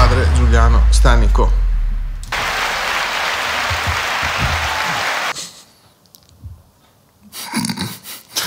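A replayed applause sound effect in a podcast: a steady, dense wash of clapping that runs for about three seconds between stretches of talk, then cuts off abruptly.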